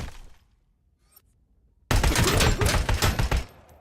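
Gunfire erupts in the video game Robocop: Rogue City: after near silence with faint clicks, a sudden loud, close automatic burst of rapid shots runs for about two seconds.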